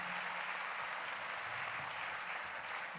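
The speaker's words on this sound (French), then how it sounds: "On vous applaudit très fort." An audience claps steadily in a conference hall at the end of a health and genetics panel, a dense even wash of applause lasting a few seconds with no voices on top.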